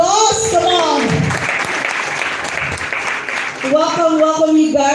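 Warm audience applause for first-time guests at a business launch event in Zambia, swelling between a speaker's voice at the start and talk resuming over the tail.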